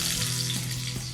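Garlic hits hot oil in a pan and gives a steady, close, even sizzle that holds without a break.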